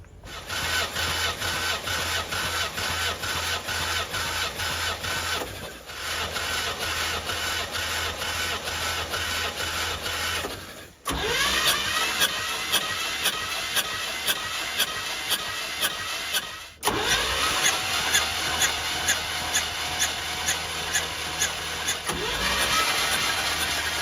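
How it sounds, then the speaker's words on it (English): A 1963 Chevrolet C10 engine cranks on the starter during a compression test. There are four long bursts of rapid, rhythmic chugging turnover, each cut by a short pause, loud and close, with no talk. "For good measure, I'm going to check the compression again."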